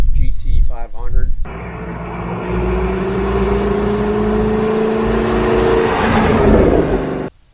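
Someone speaks briefly, then a 2012 Ford Mustang Shelby GT500 engine runs with a steady low rumble that builds slightly toward a rev before cutting off abruptly.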